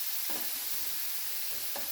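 Slices of summer squash sizzle on a hot grill, a steady soft hiss with a few brief crackles, fairly quiet and close.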